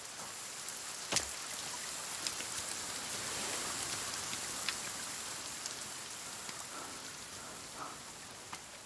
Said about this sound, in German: Warum regnet das so kacke?